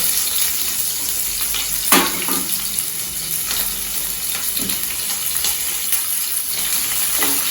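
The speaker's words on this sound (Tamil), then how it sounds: "இது கொஞ்சம் வதங்கட்டும் வெங்காயம்" Sliced onions with cinnamon sizzle in hot oil in a pan for tomato curry, a steady close hiss with occasional sharper crackles and spits, no voices.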